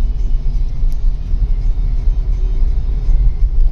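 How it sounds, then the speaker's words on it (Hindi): Highway traffic on a rainy road makes a heavy, continuous low rumble of passing vehicles, loud and steady, with no voices. "रास्ते में ट्रैफिक इतना है।"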